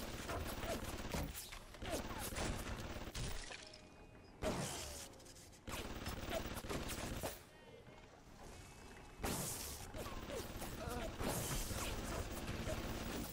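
Automated security turret firing in BioShock Remastered, dense bursts of gunfire with mechanical clatter and crashes recurring across the stretch, loud and busy, with occasional speech mixed in.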